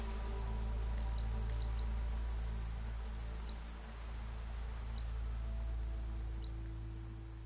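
Steady rainfall in Horizon Forbidden West, a dense hiss of falling water with scattered sharp droplet ticks spread across the whole stretch, moderately loud and continuous with no voices.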